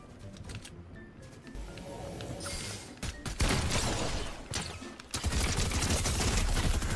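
Video game gunfire crackles in rapid bursts, building from sparse shots to dense, loud volleys near the end, with a faint mouse click and brief voice sounds in the background.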